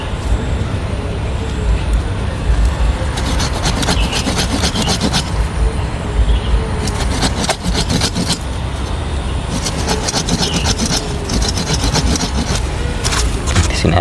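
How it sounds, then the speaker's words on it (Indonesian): Steady rasping strokes of a hand saw biting through wood, cutting a sweet cassava root, continuous and close, with rhythmic back-and-forth scraping throughout. "jadi kita gergaji saja"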